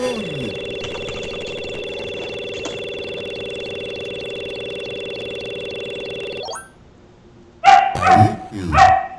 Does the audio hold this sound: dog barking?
yes